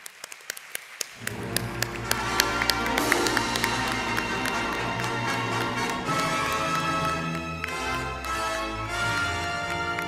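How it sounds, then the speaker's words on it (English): Applause from the audience at the 25th Don Quijote Awards ceremony, held by a Hispanic Chamber of Commerce, greets the winners on stage. Steady, dense clapping carries through loud music for about ten seconds, with sharp taps at the start. "Big round of applause for all of them."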